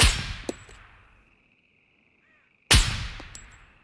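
Sniper rifle shots in Scum: two loud, sharp cracks about two and a half seconds apart, each trailing into a long echoing decay, with a metallic clink between them.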